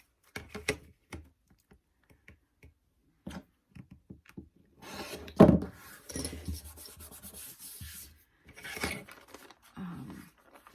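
Scissors or a rotary cutter trimming fabric for foundation paper piecing, scattered close snips and scrapes with quiet gaps and a short stretch of rubbing.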